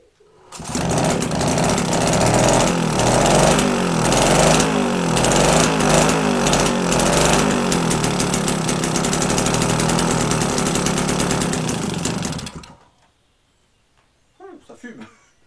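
A Motobécane AV48 moped engine started with choke and decompressor fires up and runs loudly and steadily for about twelve seconds, with an uneven, knocking idle, then cuts out, followed by brief talk.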